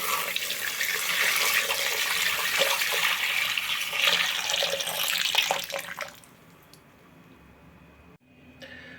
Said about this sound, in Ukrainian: в куб частину барди, що залишилась з першої перегонки